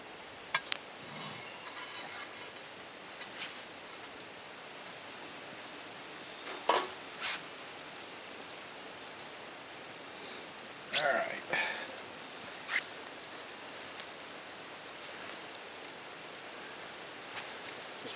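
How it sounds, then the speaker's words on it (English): Cornbread batter pours over gumbo in a pot at a basecamp cooking setup, making a soft continuous sizzle and bubbling with scattered clicks and small knocks throughout. "pour this entire batter over top of our gumbo"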